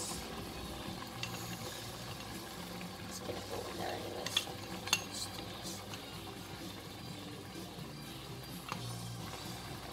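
Risotto with lemon zest stirred in a pan, a steady soft scraping and faint sizzle running throughout at moderate level, with a few sharper utensil clicks and a voice talking over it.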